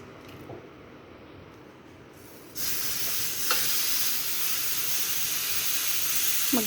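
Pork liempo hits a preheated grill and bursts into a loud, steady broadband sizzle that jumps in abruptly after a quieter stretch, with a few small clicks and pops riding on the hiss.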